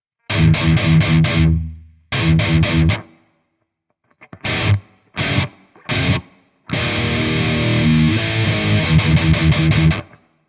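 Heavily distorted electric guitar chords through Amplitube 4 with a venue reverb setting, in bursts and a sustained strummed passage, with a spacious reverb tail washing after each stop.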